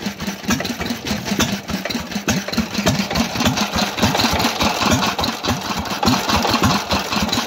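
A Fairbanks engine, an older stationary engine fitted with a new gas tank, runs steadily nearby with a fast, even chugging beat and no voices over it.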